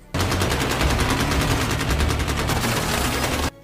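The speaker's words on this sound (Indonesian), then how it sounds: "Pasukan Lloyd baku tembak dengan pasukan SWAT Praha yang sedang menahan dan melindungi agen Six." Loud, continuous rapid gunfire from a film firefight between mercenaries and a Prague SWAT team, with dense overlapping automatic bursts that stop abruptly after about three and a half seconds.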